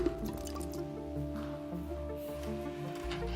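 Water pours into a sports bottle with a steady liquid gurgle and dripping, close by and continuous, against a faint steady hum.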